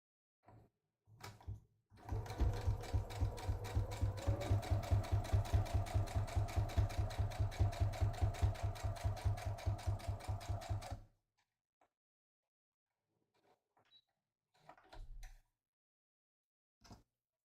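A sewing machine runs slow, very short lines of stitching on a drawstring project bag: a steady mechanical chatter for about nine seconds, then stops, followed by a few faint clicks and handling sounds.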